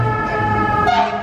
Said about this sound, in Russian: Сейчас проехала пожарная машина.